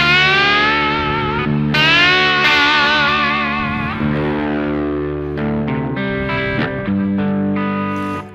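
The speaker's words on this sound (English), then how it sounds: "first you attack soft and even harder, that the distortion comes out" Distorted electric bottleneck slide guitar in Ry Cooder style, notes gliding up and down, sustained and wavering with heavy grit, played alone in a steady phrase, harder attacks bringing out the distortion.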